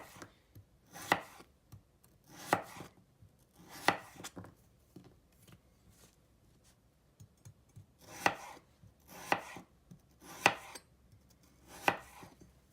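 A knife chops an onion on a cutting board, close, sharp thuds in irregular clusters separated by short pauses, with no one talking.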